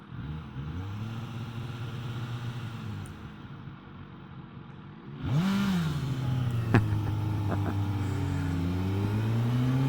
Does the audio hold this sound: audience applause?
no